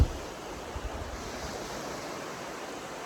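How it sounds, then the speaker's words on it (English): Calm ocean on a windless day at Rosnala, a soft, steady wash of gentle surf with a faint low rumble and a couple of small swells near the start, heard alone without voices. "So let me just show you how calm the ocean is."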